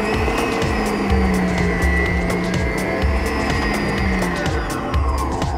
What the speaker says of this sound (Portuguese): Eu tô usando uma batedeira que tem uma pá própria para massas.